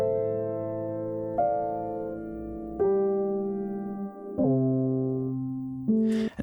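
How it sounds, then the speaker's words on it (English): A vocoder layered with a square-wave synth through pitch tracking gives sustained buzzy chord tones that step to new pitches every second or so, bright and close, ending in a short noisy burst, with no talking. "the very first effect I have in the chain is this vocoder, where I'm using the built-in pitch tracking to kind of layer it with a square synth"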